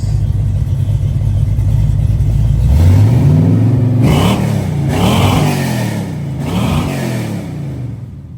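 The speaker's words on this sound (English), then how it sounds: "Give her a couple revs." Burnout truck engine fitted with NASCAR-style boom tubes exhaust, revving loudly in several rising bursts over a constant deep idle rumble, close up and sustained.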